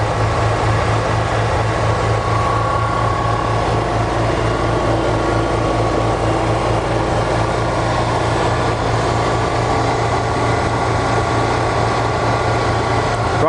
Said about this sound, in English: Now obviously the choke's on, you can hear that. The revs are just increasing.